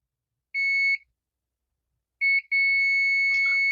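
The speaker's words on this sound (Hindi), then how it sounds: "इसको मैं रखता हूँ बजर मोड पे।" A multimeter in buzzer continuity mode, testing a coil during a massage gun repair, gives a short electronic beep, then a pause, then a brief blip that becomes a sustained tone, with faint clicks of the probes.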